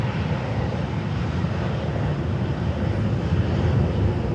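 Delta Airlines Boeing 737-800 jet at LAX, a steady broad engine roar holding at a constant moderate level throughout, heard alone at some distance.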